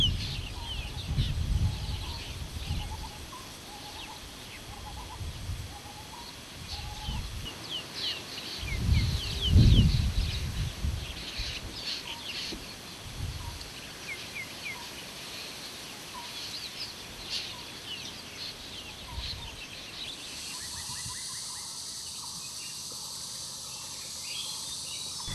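Birds call and chirp over a quiet ambient background in Kaziranga National Park, Assam, with scattered faint calls, some louder bursts and insects buzzing softly.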